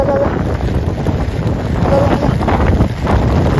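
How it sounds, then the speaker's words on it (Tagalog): Strong, continuous wind roaring and buffeting the microphone during a heavy rainstorm in Green Hills, San Juan, loud and close, with a dull rumble and no pauses. "Oh, lakas ng hangin."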